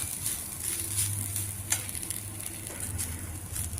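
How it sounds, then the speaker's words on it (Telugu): Grated fresh coconut fries in a pan with a soft, even sizzle and light crackle at close range, fairly quiet, with a low hum underneath and no voices. "ఇందులో తురుగు పెట్టుకున్న కొబ్బరి పచ్చి కొబ్బరి పచ్చివాసన పోయేదాకా కొద్దిగా వేయించుకోవాలి ఇలాగా"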